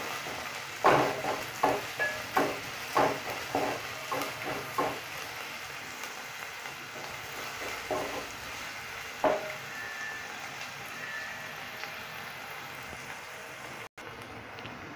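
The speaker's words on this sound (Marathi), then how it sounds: "आपला कांदा चांगला भाजलेला आहे, फ्राय झालेला आहे" Onion fries in a pan for a cabbage and pea curry, a soft continuous sizzle with a run of rhythmic stirring knocks early on that thin out to occasional taps.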